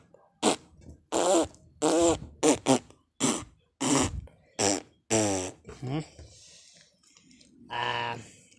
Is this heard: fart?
yes